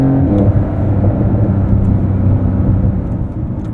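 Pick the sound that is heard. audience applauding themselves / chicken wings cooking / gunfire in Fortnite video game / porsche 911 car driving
porsche 911 car driving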